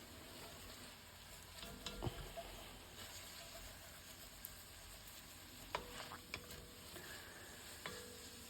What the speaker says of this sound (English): scraping all that flavour from the bottom of the pan